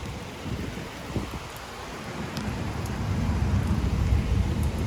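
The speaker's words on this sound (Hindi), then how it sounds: "ये देखो बारिश को" Steady rain hisses and patters outdoors, growing slightly heavier toward the end, with low rumbling noise underneath.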